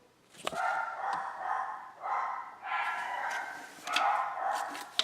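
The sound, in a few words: dogs barking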